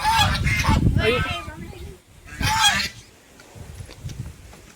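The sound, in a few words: ducks honking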